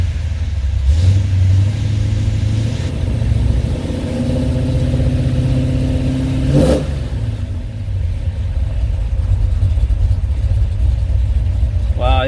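A car engine idles with a low steady rumble, then revs up in a couple of rising surges before settling back, with some talk over it, during an oil pressure check.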